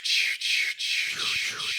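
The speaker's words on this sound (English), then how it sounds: "and then exhale with a sound like this." A breathy, audible exhale with a soft whispered rush of air, broken by brief pauses into a few pulses.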